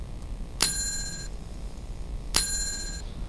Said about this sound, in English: Yeah, the bell is good.